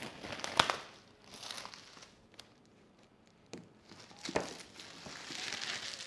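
Crinkly plastic wrapping being peeled off a Surface Laptop Go box, a few sharp crackling bursts separated by quieter handling, close and otherwise silent.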